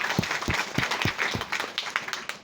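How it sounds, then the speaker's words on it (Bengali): An audience claps loudly at a commission earners' gathering of a herbal food company, steady dense applause with a few sharper nearby claps standing out across the whole stretch. "যারা কমিশন পাইছেন তাদের জন্য একটা জোরে করে তালি হবে"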